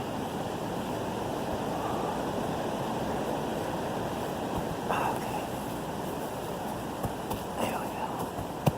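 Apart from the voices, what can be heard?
strong wind blowing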